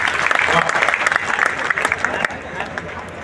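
Listeners at an outdoor poetry gathering on a fairground applaud the stage, a short burst of dense clapping that fades out after about two seconds, leaving quieter crowd murmur.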